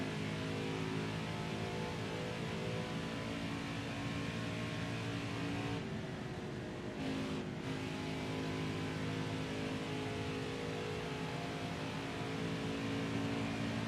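A racing truck engine in NASCAR Heat 5 drones at a steady, high, harmonic pitch on a qualifying lap, holding nearly constant loudness with a brief dip in the upper tones midway.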